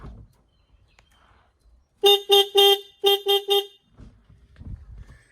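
A tractor horn gives six loud, bright toots close by, in two quick bursts of three, with near-silence before and after and faint rustling at the end.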